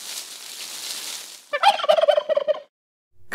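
A turkey lets out a single rapid, rattling gobble lasting about a second, close and clear. A soft hiss comes before it and a brief silence follows.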